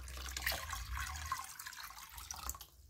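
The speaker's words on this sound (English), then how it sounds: "Okay, so now I am putting the water." Water poured into a flood-sensor container for an IoT flood alert system, a faint close trickle and splash lasting a few seconds.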